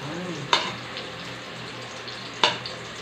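Garlic and onion frying in a pan for pancit bihon hiss steadily up close, punctuated by two sharp clanks of a utensil against the pan.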